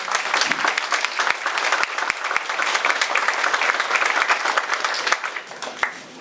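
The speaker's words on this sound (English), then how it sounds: "So maybe we could give an applause to them." An audience at a grand opening applauds, a sustained dense wash of many hands clapping, loud and steady throughout, with a few sharper individual claps standing out and fading slightly at the end.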